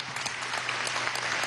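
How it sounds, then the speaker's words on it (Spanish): Steady, dense crowd applause for a young man at a political gathering with President Nicolás Maduro, a continuous wash of many hands clapping without any voices standing out. "un aplauso a este joven"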